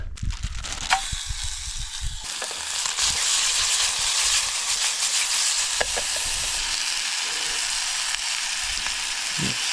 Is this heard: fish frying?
yes